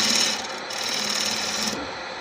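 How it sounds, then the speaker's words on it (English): A woodturning gouge being sharpened, a steady rasping grind of steel on an abrasive that holds for about two seconds, moderately loud and close, with no voices. "sharpen this gouge again"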